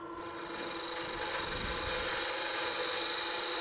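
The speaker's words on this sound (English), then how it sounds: "I'm going to use a bidan to establish the tenon." A bedan tool cuts a tenon into wood spinning on a lathe, making a steady, close rasping scrape that builds slightly and holds continuously.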